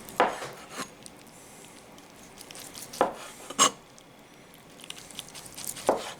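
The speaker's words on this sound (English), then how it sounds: "Now you always want to slice against the grain, and the grain here is running this way." A knife slices through sous vide corned beef against the grain on a cutting board, giving a few soft, separate cuts and light taps spaced out over a quiet background.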